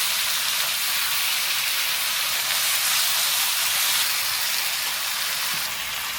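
Onions stir-fried in a hot pan give off a steady, dense sizzle and hiss that holds evenly throughout without pause, with no voices over it.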